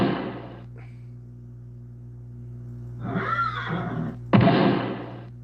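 A horse neighing sound effect plays during a talk show: a whinny at the start, then louder, drawn-out neighs and snorts near the end, over a low steady hum.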